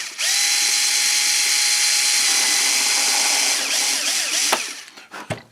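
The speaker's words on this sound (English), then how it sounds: "Down low, I'm going to drill a hole." A power drill runs steadily for about four seconds, loud and close, drilling a hole low in a wooden build, then slows and stops with a few short bursts at the end.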